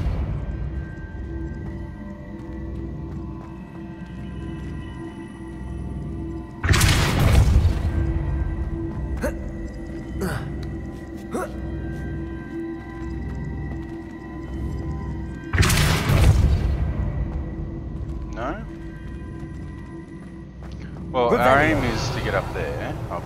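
Depulso spell blasting a box in Hogwarts Legacy, three sharp loud whooshing bursts well apart, set over a steady low game ambience with someone talking throughout.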